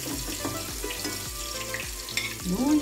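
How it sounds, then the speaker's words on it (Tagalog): Garlic, onion and ginger sauté in hot oil with a dense, crackling sizzle, while a utensil scrapes and stirs in a steady rhythm of repeated strokes, close and clear, and a brief voice-like tone rises at the end. "Gigisahin natin yung ating bawang, sibuyas at luya."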